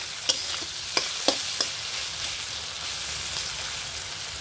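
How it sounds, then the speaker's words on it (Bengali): Loitta fish being stirred with salt and turmeric in a frying pan: a steady hiss of oil sizzling throughout, with several quick scraping taps of the spatula against the pan early on, close up. "লবণ হলুদ দিয়ে আমি একটু নেড়ে নেড়ে দিচ্ছি।"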